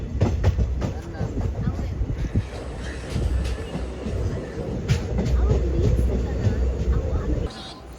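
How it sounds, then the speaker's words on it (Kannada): A train pulling out of Payangadi station towards Kannur in Kerala, a steady loud rumble of rolling wagons with faint clickety-clack throughout. "ಟ್ರೈನ್ ಹೊರಡ್ತಾ ಉಂಟು ಪಾಯಂಗಡಿಯಿಂದ ಕಣ್ಣೂರಿಗೆ."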